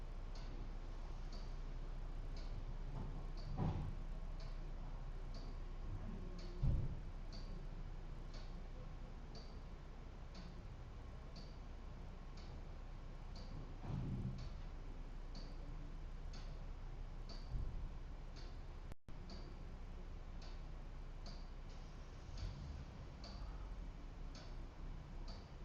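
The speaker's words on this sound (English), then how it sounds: "If you can hear the ticking of the clock," A clock ticks in a steady, even rhythm, quiet and close, with faint intermittent thumps and low background hiss.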